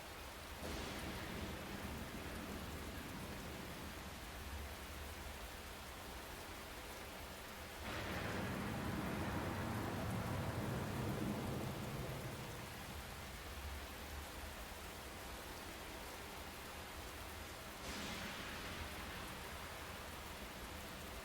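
Steady rain pours throughout a scene in the video game Ai: The Somnium Files, a dense continuous hiss that swells louder for a few seconds midway, with no voices.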